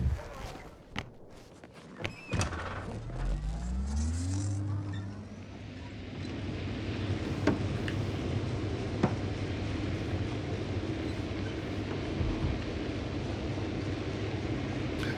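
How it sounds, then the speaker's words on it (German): Car driving in The Invincible, a low engine hum rising in pitch as it accelerates, then settling into a steady rumbling drone with occasional knocks and clatter. "So, ich muss wieder Auto fahren, denk dran."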